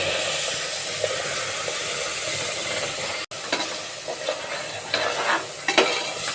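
Biryani masala paste with ginger and garlic fries in oil in a pan, giving a loud continuous sizzle and hiss with a brief cut midway, then stirring clatters over the frying.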